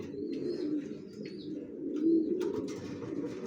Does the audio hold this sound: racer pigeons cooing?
yes